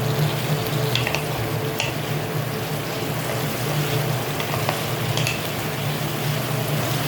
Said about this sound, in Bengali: এবার সব মশলাগুলো আমি ভালোভাবে মিশিয়ে দেব।